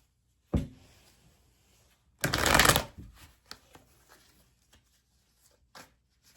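Angel Answers oracle cards shuffled close by: a sharp snap, then one dense riffling burst lasting about half a second, followed by a few light taps and card clicks in otherwise quiet surroundings.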